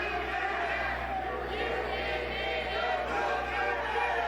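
A Chaotic Wrestling crowd chants during Mortar versus Rip Byson, a dense, steady roar of many voices filling the arena with a constant low hum beneath.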